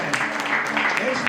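A church congregation at a conference in Hannover claps together, a dense, continuous burst of applause heard up close, mixed with voices.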